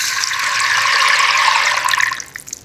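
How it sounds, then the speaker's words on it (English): Water rushing through a colander as pasta is drained, a loud, close, continuous gush that tapers into a few last splashes. "A colander is used to drain water."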